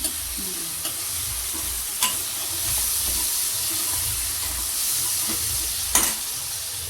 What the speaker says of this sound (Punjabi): ਚਲੋ ਫਿਰ ਪਾਤੇ ਟਮਾਟਰ ਵੀ